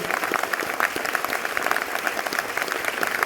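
Hearty audience applause fills a hall during a leadership development program session in Delhi, dense and loud clapping continuing evenly from start to finish.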